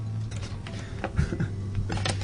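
Metal bolts are threaded by hand onto a skateboard, giving quiet, close, irregular little clicks and scrapes in short bursts.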